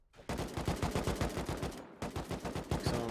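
Rapid automatic turret gunfire in the survival game Rust during a 6v6 tournament base raid, loud repeated bursts with a brief pause near the middle, no talk.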